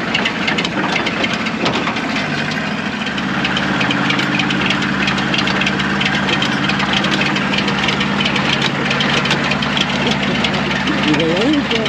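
The engine of a 4x4 expedition truck turns over after repair and settles into a steady, rumbling idle with a knocking edge, while people talk over it.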